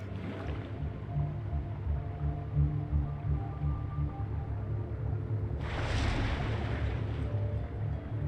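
Ocean water in What Remains of Edith Finch: a low, steady watery rumble with faint sloshing, then a louder wash of surf or splashing swelling near the end.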